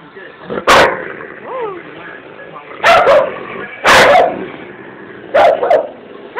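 A German Shepherd barks in sharp bursts, several quick yaps spaced apart, with whimpering and low background noise between them.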